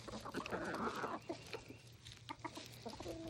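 Free-ranging chickens cluck while foraging outdoors, a busy scatter of soft, close clucks and short calls over low background noise.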